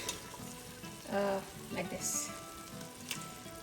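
Spinach and beef curry (palak gosht) sizzles and fries steadily in a pan, a continuous close crackle with a few louder bursts as it is stirred, no talking over it.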